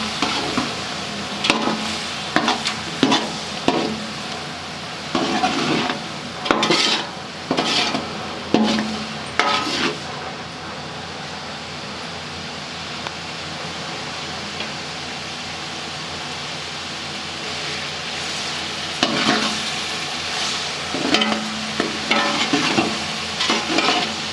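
Carrots stir-fried in a pan for restaurant-style Chinese chicken: a steady frying hiss runs throughout, broken by bursts of scraping spatula strokes and clattering pan contacts, busiest at the start and again near the end.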